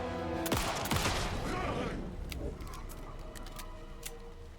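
Handgun shots in Alan Wake II, a few sharp cracks early on and then quieter clicks and taps, heard close with game ambience beneath.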